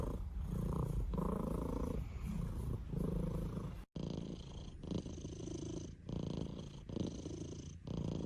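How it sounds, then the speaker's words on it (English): A cat purring loudly and close up, a deep rhythmic rumble in repeated breaths, cut briefly midway and then continuing with the same steady pulsing. "That is some loud purring"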